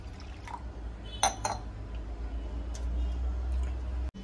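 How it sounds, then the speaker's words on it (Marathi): Water is poured over washed moong dal to soak it: a brief splash and trickle with a couple of clinks against the container, then a soft, steady background hum. "आता मी भिजत घालते अर्ध्या तासासाठी।"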